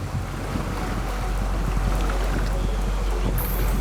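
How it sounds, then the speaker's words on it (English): A fast-moving river current at a ferry crossing in Peru, heard as a continuous rushing roar of water mixed with wind buffeting the microphone, broad and steady throughout, with no one talking. "And there's this, the river."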